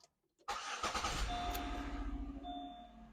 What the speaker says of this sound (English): let's turn our car on